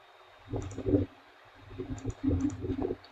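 Two short bursts of quick clicking keystrokes on a computer keyboard, close and fairly quiet, separated by a brief pause, with no talking.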